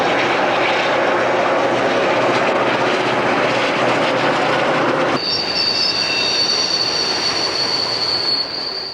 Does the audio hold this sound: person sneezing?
no